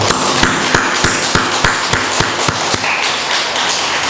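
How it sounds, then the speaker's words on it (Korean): A church congregation at a Korean worship service claps in a steady, even rhythm of sharp beats over a dense, continuous wash of sound, with no talking. "다시 한번 하나님께 큰 영광의 박수 한번 올리겠습니다."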